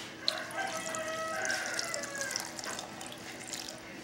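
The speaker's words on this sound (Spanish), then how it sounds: "Le voy a agregar agüita para que se pongan más blanditos" Water poured from a tap into a bowl of nance fruit in a home kitchen, a steady close splashing that runs the whole time, with a rooster crowing faintly in the background.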